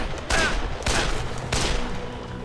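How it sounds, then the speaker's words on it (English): Three loud, close gunshots fired at zombies in the Dead Island video game, spaced evenly about half a second apart, each with a short echoing tail. "Killing them by shooting them in the nads."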